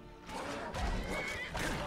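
Horse in the Skyrim video game whinnying loudly, a shrill, wavering neigh over a busy game soundscape, with faint hoof clip-clop beneath.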